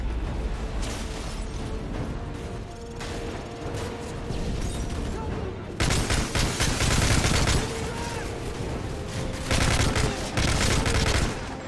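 Sustained covering gunfire in Call of Duty: Modern Warfare 3, dense automatic bursts that grow louder and heavier midway, with overlapping shots from several weapons and faint voices underneath.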